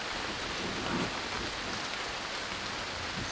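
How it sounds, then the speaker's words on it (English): Heavy rain pours down outdoors over an open-air workshop with scaffolding and tarps. It makes a dense, continuous hiss with close spattering drops and no voices. "some serious rain."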